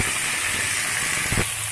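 Bottle gourd greens hit a hot pan with cumin powder, giving a loud continuous steamy hiss close by, with a brief sharper burst of sizzle near the end.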